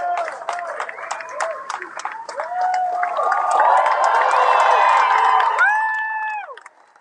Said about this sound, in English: And I want you to cheer for them.